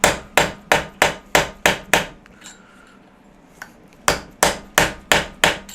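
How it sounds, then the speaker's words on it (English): Metal tapping bends a lock tab against a nut during a classic Fiat 500/126 engine rebuild: two runs of sharp, evenly spaced ringing blows, about seven each, separated by a quiet pause, close and loud. "I'm just going to bend the tab up to stop the nut from undoing itself."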